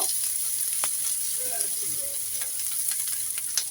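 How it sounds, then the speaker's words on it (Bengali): Green chillies sizzle in a pan with fried onions and garlic, a low, even frying hiss with occasional stirring taps and pops. "দিয়ে কাঁচামরিচ সহ ভেজে নিব।"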